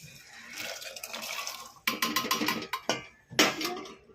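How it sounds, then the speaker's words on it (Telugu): Dry chickpeas for chana masala tumble and clatter into a metal pan in a few quick bursts, with rattling and scraping between pours. "నేను ఇప్పుడు ఇందులో శనగలు వేస్తాను చూడండి"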